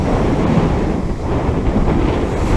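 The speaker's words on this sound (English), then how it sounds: "Look at these waves coming in." Large sea waves crash and roll onto a Suffolk beach in strong wind. A steady, loud roar of surf mixes with wind buffeting the microphone, with no pauses.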